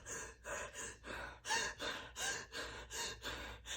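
A person imitates Kussmaul breathing, the rapid, deep respiration of diabetic ketoacidosis, with about eight loud, regular breaths in and out in a steady rhythm.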